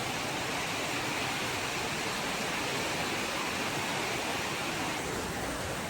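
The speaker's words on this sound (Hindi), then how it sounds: "देख सका तो संगवारी हो कैसे पानी गिरा थे," Heavy rain pours in a loud, unbroken roar of broadband hiss that stays constant throughout, with no voices heard.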